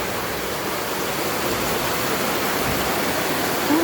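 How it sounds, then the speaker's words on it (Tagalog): Rushing floodwater during Typhoon Kristine, a loud, steady broadband roar of water close by with no break. "Grabe talagang baha"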